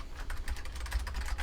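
Quick, close clicks of keys on a faulty computer keyboard, rapid and uneven, tapping along at a soft level with no talking.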